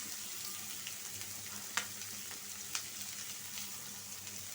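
Green chilies fry in a pan with a continuous crackling sizzle, steady and moderately close, broken by a couple of sharp pops.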